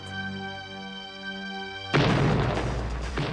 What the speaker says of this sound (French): Oh, et les explosions recommencent.